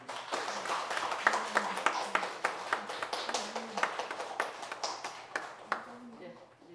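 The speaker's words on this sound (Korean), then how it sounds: "박수로 환영해 주시기 바랍니다." A church congregation claps to welcome newly baptized members during a Sunday worship service, a quiet run of distinct, irregular claps heard from a distance, with talking underneath.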